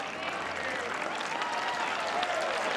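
Steady, dense applause from a crowd after a good shot in the women's pairs final of the 2026 Australian Open lawn bowls, sustained and evenly loud throughout with no break.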